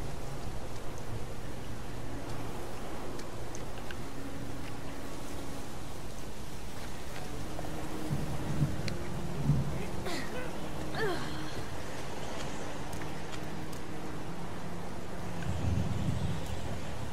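Steady rain falls throughout a scene in the video game Heavy Rain, a constant soft hiss of drops with some wind and faint low rumbles, and no talking.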